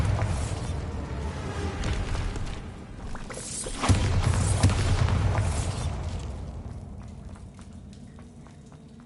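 Bombarda spell blast in the video game Hogwarts Legacy, a loud rumbling explosion swelling around the middle and slowly fading into a dull roar with scattered crackles, no voices.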